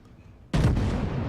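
A single heavy broadside from the USS South Carolina (BB-26) battleship firing HE shells in World of Warships bursts in suddenly after near silence, a loud close boom that rumbles on and decays.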